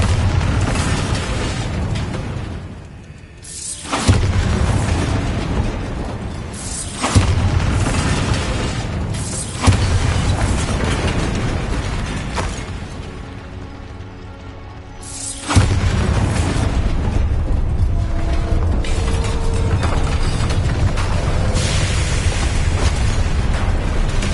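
A Bombarda spell sets off repeated explosions in the video game Hogwarts Legacy: loud, sustained booming blasts with a series of sharp bursts, dense roaring debris, and no voices.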